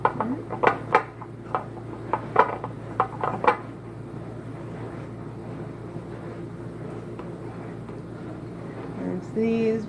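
Measuring spoons clink as a teaspoon of baking soda is scooped for homemade mouthwash: a handful of light, close metallic taps over the first few seconds, then a low steady background hum.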